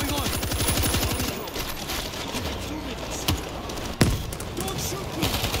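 Rapid automatic gunfire in World War Z rattles in a fast, even burst at first, then gives way to scattered single shots and one sharp crack amid game noise and voices.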